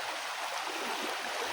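Fast-flowing river in a valley at Barotuan, El Nido, Palawan, swollen after rain: a steady, dense rush of water close by, continuous and alone without voices.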